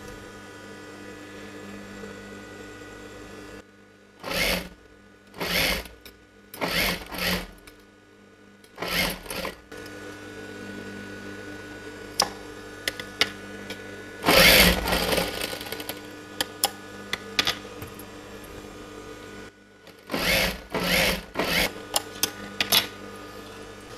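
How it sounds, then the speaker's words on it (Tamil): A sewing machine stitches lace onto a blouse in short repeated bursts of whirring, separated by pauses with a faint mains hum, and one longer louder run midway, heard close and alone. "இப்போ இதுவும் நம்ம லேஸ் வச்சு ஸ்டிச் பண்ணிடலாம்."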